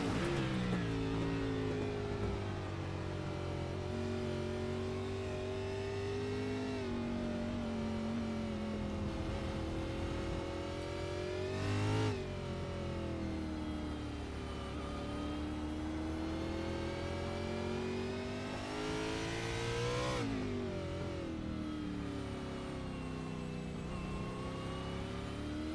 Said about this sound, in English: just taking a listen inside of Morton's car here. This Toyota Supra has been ramped up all night